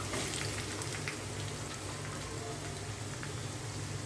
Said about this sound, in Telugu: చూడండి, ఉల్లిపాయ అండ్ పచ్చిమిర్చి బాగానే ఫ్రై అయిపోయినాయి.